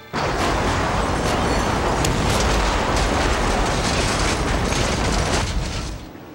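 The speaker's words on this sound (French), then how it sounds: "A series of 3 explosions, very quickly, all in the same shot." Three rapid pyrotechnic petrol explosions staged for a film stunt, merging into one loud, sustained roaring blast that rumbles for several seconds before dropping away.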